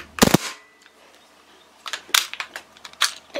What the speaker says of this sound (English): It fires 3 rounds with the silencer.